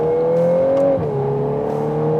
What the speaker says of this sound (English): I hear the engine more than the exhaust.